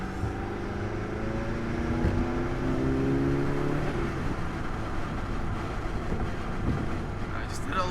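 A 2015+ Subaru WRX fitted with a Grimmspeed top-mount intercooler and methanol kit accelerates briefly in a short pull, its engine rumbling from inside the car amid wind and road noise.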